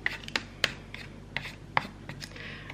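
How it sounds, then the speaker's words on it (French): A brush scrubs a surface in short, separate strokes, with about seven quick scratchy swipes at irregular intervals. The strokes are close but fairly quiet against a low background hum. "Je vais passer un petit coup de brosse comme ça."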